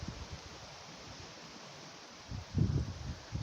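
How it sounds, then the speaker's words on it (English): Breezy outdoor air during a countryside walk, a soft steady hiss of wind with microphone buffeting and a louder rumbling gust toward the end, no talk. "It may be a bit breezy, but it's pleasant enough."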